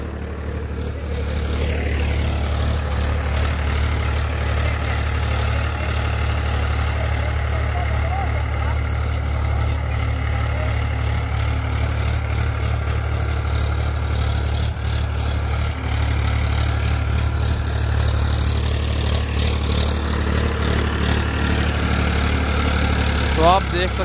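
Powertrac 439 Supermaxx farm tractor engine running steadily and loud throughout, a constant low rumble with a faint higher whine, while people talk nearby.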